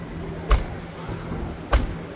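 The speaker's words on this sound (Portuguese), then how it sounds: "Tá bem estranho esse fechamento de porta também" Pickup truck door closing with an odd, faulty-sounding shut: two separate dull thumps about a second apart, each brief and fairly close, over a quiet background.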